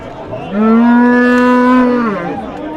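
A single cow at a livestock market lets out one long, loud, steady moo lasting well over a second, then trails off. It sounds close, with no talk over it.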